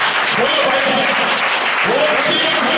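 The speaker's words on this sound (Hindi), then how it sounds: "ताली बजाकर धन्यवाद करेंगे।" A church congregation claps in thanks during a Christian sermon, giving dense, steady applause throughout, with a voice speaking over it.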